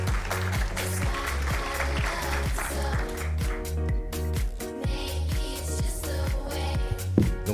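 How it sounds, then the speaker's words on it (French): An audience at a conference on HR and digital transformation claps for the panelists, steady applause heard under a loud rhythmic musical beat that carries through. "On peut les applaudir."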